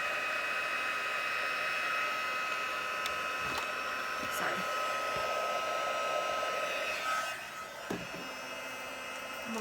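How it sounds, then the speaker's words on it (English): Heat tool blowing hot air over embossing powder on a handmade card, a steady loud whooshing hiss sustained nearly throughout, dipping briefly near the end with a few small knocks. "let me use my heat tool. I'm going to heat this up for about 10 or 15 seconds"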